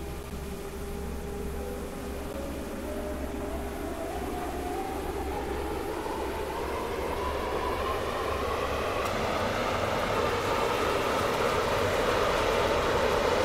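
A four-coach Stepford Connect train in the Roblox game Stepford County Railway rumbles steadily along the track, its hum rising slowly in pitch and loudness as it gathers speed, with no talk over it.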